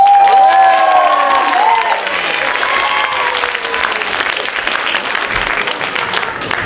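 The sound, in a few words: audience applause for dancers at a pageant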